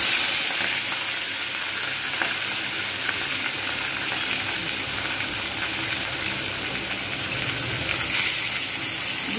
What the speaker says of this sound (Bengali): এবারে আঁচটা একটু কমিয়ে দেবো, দিয়ে তারপর আমি এর মধ্যে মাছগুলো ছেড়ে দেবো।